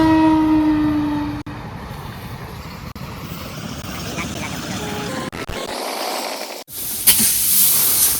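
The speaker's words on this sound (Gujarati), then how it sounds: "રેલગાડી આવી ગઈ છે, હમણાં રેલગાડી નીકળશે" A village railway train sounds a long horn blast, then rolls past with a loud, steady rumble and hiss; a person's voice can be heard over the passing train.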